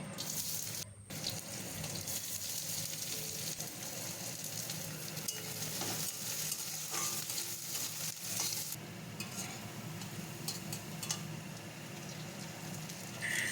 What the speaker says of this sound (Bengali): এবার এই তেলের মধ্যেই আমি কুচিয়ে রাখা পেঁয়াজটা ভেজে নেব ভালো করে